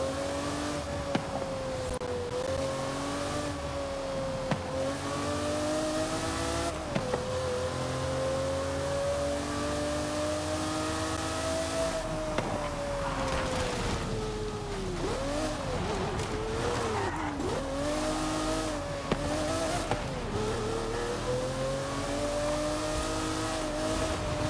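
Race cars in Forza Horizon 5 roar continuously, with engine pitch rising and falling through gear changes and revs, loud and close throughout, with no talking.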